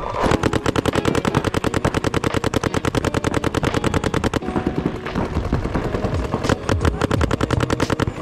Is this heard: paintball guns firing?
yes